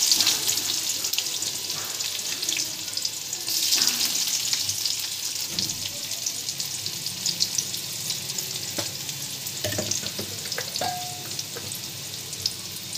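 Chopped onion fries in hot oil with cumin and homemade spice mix for an eggplant curry, a steady close hiss of sizzling broken by occasional stirring scrapes and light clicks.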